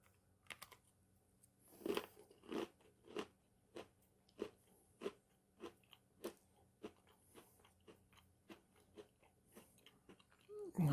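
A Catalina Crunch chocolate creme sandwich cookie being bitten and chewed close up: an initial crisp bite followed by a steady series of crunchy chews at a regular rhythm, fairly quiet with no talking.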